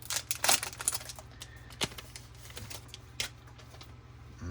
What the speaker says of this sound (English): So I'm going to go ahead and pop that open real quick